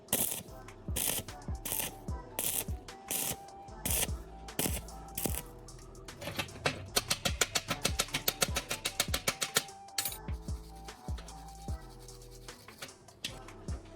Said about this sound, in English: I'm threading a round metal tube onto a threaded rod and securing it with a nut